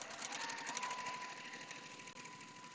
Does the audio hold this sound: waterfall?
no